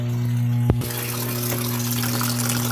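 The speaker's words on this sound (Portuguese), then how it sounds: "Já coloquei aqui a máquina pra encher" A home washing machine fills with water in a steady, close gushing stream after a sharp click, with a constant low hum beneath the rushing water.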